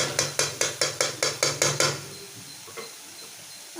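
Vegetables with soy sauce, vinegar and ketchup are stirred in a pan: about eight quick, evenly spaced clanks of a utensil against the metal, then quieter scraping and sizzling.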